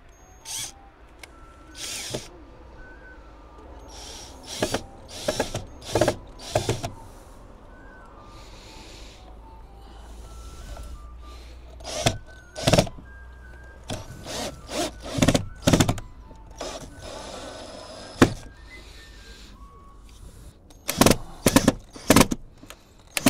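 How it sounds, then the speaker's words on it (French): Short bursts of a power screwdriver driving screws into the parts of a TROBOLO DIY compost toilet kit, repeated in quick clusters with pauses between, close and fairly loud. "il n'y a plus qu'à le visser"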